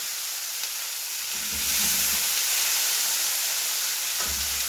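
Rice poured into a hot pan for a langoustine and pea risotto, giving a steady steamy hiss and sizzle at close range, swelling midway with a few low scraping stirs.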